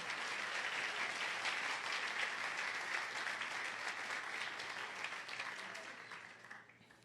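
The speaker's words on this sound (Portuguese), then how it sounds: "Você pode aplaudir ao Senhor por isso?" A church congregation applauds in a dense, steady wash of clapping that holds loud for several seconds, then thins and fades toward the end.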